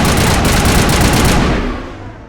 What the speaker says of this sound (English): We can't have any shooting in here.